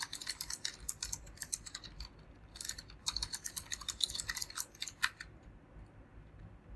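Rapid, uneven bursts of key taps come from a computer keyboard as code is typed for an Ionic app, close and fairly quiet, with brief pauses between runs.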